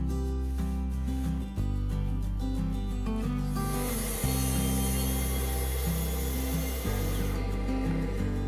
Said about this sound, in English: I'll be making most of these cuts with my Makita track saw.